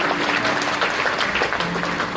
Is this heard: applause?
yes